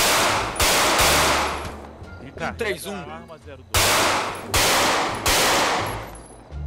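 Gunfire at shooting practice in the GTA 5 video game: loud bursts of rapid shots come in several separate volleys, with short pauses between them and a man calling out commands in one gap.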